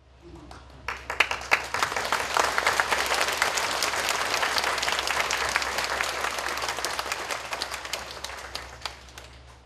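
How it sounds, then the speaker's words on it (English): Sustained audience applause for distinguished guests at a peace forum honouring a former Philippine president, swelling after a second and holding as a dense, loud wash of clapping across the whole stretch. "Let us please give a big round of applause to thank His Excellency and all the distinguished guests"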